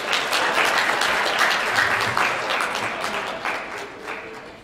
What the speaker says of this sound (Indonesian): Tepuk tangan kek.